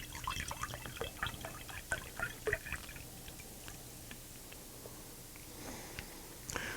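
Hard apple cider is poured into a small Crown Royal glass, with a splashing, trickling pour and scattered drips and clinks, fading to quiet fizzing before a final knock.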